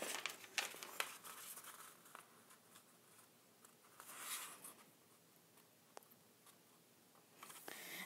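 A sheet of paper being folded in half and creased while making a paper boat, with soft crinkles, short taps and a brushing swipe, quiet and close with no talk.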